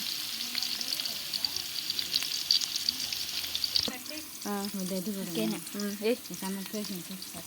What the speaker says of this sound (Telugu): మధ్యలో ఇట్లా ఫ్రై చేసుకుంటా ఉండండి అప్పుడు మీకు కొంచెం ఆనియన్స్ బ్రౌన్ అదే మాటకుండా ఉంటాయన్నమాట